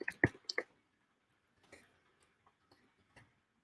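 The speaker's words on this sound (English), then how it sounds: "This is my regular keyboard." Keys clack on an ordinary computer keyboard, a quick cluster of sharp taps followed by a few sparser, softer presses, close and dry in a quiet room.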